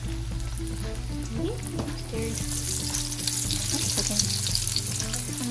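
Mozzarella and cheddar cheese sticks fry in hot oil with a steady, dense sizzle and crackle over a low hum, and a voice speaks briefly.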